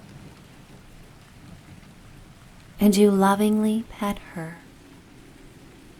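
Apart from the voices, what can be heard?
thunderstorm with rain and thunder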